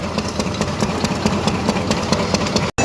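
A diesel engine runs steadily, loud and close, its continuous rumble carrying a regular knocking pulse throughout with no speech.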